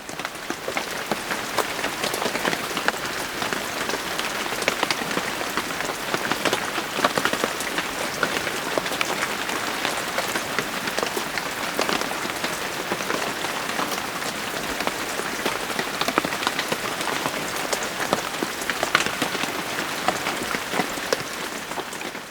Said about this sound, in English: it's been raining for about a half hour